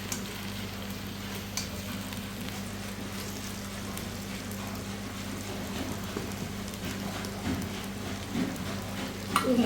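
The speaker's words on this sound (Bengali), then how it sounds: "এখানে আমার এটা কিন্তু গরম হয়ে আসতেছে, আমি এখন ভাজা ভাজা করবো" Steady hot-oil sizzle of food frying in a pan for an iftar dish, continuous and close, with occasional faint clinks and crackles and no talking.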